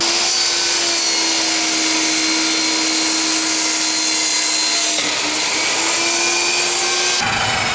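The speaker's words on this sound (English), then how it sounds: "Now I'm going to cut the length of the cheese board." A table saw runs with a steady high whine while cutting a wooden cheese board to length, loud and continuous with a slight shift as the blade passes through the wood.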